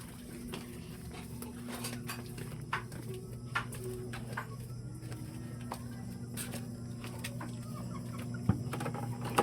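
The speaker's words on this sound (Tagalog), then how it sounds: "So papakainin muna natin yung alaga natin manok dun sa baba guys." Hungry pet chickens cluck softly and repeatedly in short, scattered calls over a faint steady hum before feeding.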